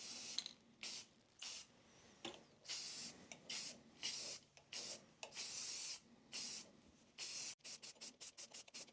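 Spray paint hisses onto a wooden bowl mounted on a lathe in a series of short, uneven bursts, quiet and close, ending in a quick flurry of rapid spurts.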